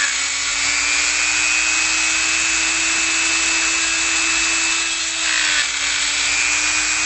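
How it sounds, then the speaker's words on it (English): Dremel rotary tool with a 1/16 inch bit drilling out the ends of a small tube, a steady high-pitched whine held continuously at close range with a slight dip in pitch near the end. "This Dremel has a 1/16 inch bit in there, which is the same as the inside diameter of the tube, and you just drill out the ends."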